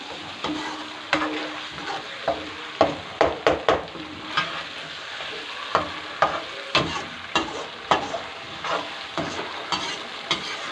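Spice paste of ground tomatoes mixed and fried in a pan for goat liver, with a steady close sizzle broken by frequent quick spoon scrapes and taps in irregular clusters, no talking.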